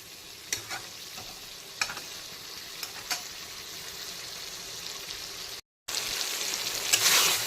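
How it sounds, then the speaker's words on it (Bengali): Spice masala for mutton curry sautéing in a pan, a steady close sizzle with occasional scrapes of stirring, a brief gap, then louder frying. "মশলার থেকে কাঁচা গন্ধ চলে যাওয়া পর্যন্ত কিন্তু কষিয়ে নিতে হবে"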